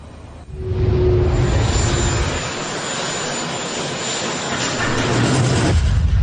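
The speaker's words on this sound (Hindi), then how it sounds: "डोनाल्ड ट्रंप का एयरफोर्स वन प्लेन जब लैंड करने वाला था तभी अचानक सामने से एक ड्रोन आ गया।" Air Force One, the US presidential jet, roars in to land with a loud, sustained jet-engine rumble and whine that swells quickly and holds steady throughout.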